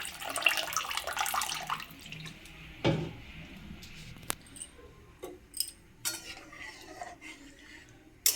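Pabda fish curry in a pan with fried mustard-poppy paste, water just added: a broad splashy pour at the start, then scattered light metal clinks and scrapes of stirring, fairly quiet and close.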